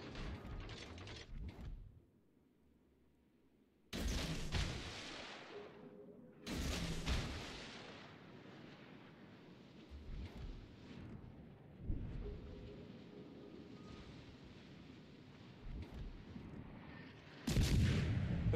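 Heavy guns of a warship thunder in World of Warships Legends, several deep booming salvos separated by gaps, each blast loud and followed by a decaying rumble, the last one landing right at the end.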